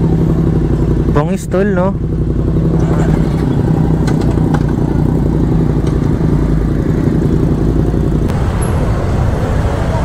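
A big motorcycle at a group ride blessing in Antipolo gives a continuous deep engine rumble that blends with surrounding traffic, and a brief voice speaks near the start.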